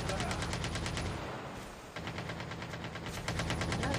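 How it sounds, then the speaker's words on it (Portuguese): Sustained automatic gunfire in Call of Duty Mobile battle royale, loud rapid bursts of shots that pause briefly midway and then resume, continuing nearly without break under faint game noise. "É aquele ali que eu tô atirando"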